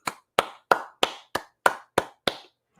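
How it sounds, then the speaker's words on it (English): Eight sharp hand claps in an even, deliberate rhythm, close and dry with short decays and silence between each. "Brian gets a hand clap."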